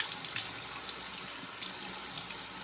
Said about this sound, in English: I'm just going to try to add a little bit more water to this